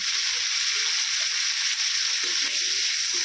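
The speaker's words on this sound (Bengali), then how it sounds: "তেলের মধ্যেই দিয়ে দিচ্ছি কেটে রাখা আমরা আমরার মধ্যে দিয়ে দিচ্ছি অল্প একটু লবণ আর হলুদ গুঁড়ো" Cut hog plums (amra) sizzling in hot oil with salt and turmeric, a steady loud hiss of frying throughout with faint stirring clinks underneath.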